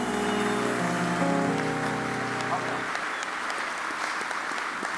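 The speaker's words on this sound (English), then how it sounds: "let's clap our hands for our parents, father, mother. Oh, keep clapping your hands." A church congregation clapping hands at an apostolic conference, a dense steady wash of applause with music and voices underneath at first, then clapping alone.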